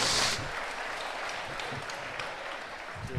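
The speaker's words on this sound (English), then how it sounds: "And please, ladies and gentlemen, give the applause for the man from Ireland, Stokes" Crowd applause at an international amateur boxing event between Scotland and Ireland, a steady, moderately distant wash of clapping with a brief louder burst at the start.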